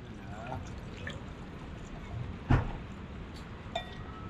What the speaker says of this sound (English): A nice gentle pour, eh?